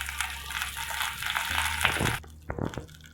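A whole sprig of curry leaves (kadhi patta) drops into hot oil in a pan while cooking an elephant foot yam dal curry, giving a loud crackling sizzle that cuts off after about two seconds, followed by a few scraping stirs.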